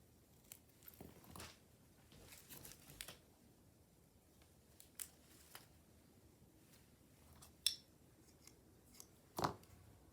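Scissors trim a two-toned paper flower valentine in quiet, separate snips and crisp cuts, some faint and a few sharper, spread out with pauses between them.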